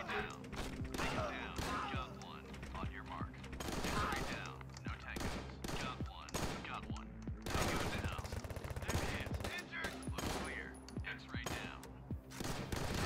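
Shotguns fire over and over in the tactical game Door Kickers, with sharp, loud blasts coming in close bursts over a bed of steady game background sound.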